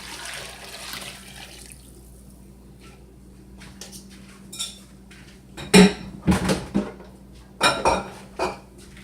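Water runs from a kitchen tap while hands are washed, with splashing bursts and clinks of dishes in a home kitchen, fairly close and without speech.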